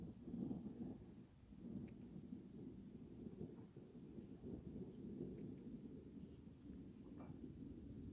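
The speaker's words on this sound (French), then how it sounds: "Un coup de tonnerre, mais..." Distant thunder rumbling during a strong hailstorm, a low, continuous, faint roll lasting several seconds with soft rustling texture and no clear voices over it.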